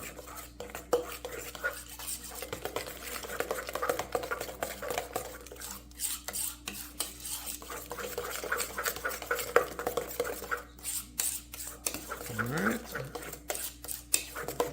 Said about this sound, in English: just mix that in by hand with this spoon